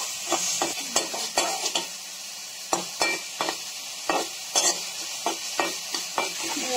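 Close, steady sizzle of ginger-garlic paste frying in a pan, punctuated by quick repeated spatula scrapes and taps against the metal.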